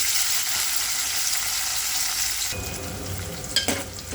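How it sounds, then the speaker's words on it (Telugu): Two large onions frying in a pan for an Andhra-style stuffed brinjal curry, a steady close sizzle throughout that grows fuller midway, with a few stirring scrapes near the end. "ఆనియన్స్ వేసుకుని ఫ్రై చేసుకుంటాను"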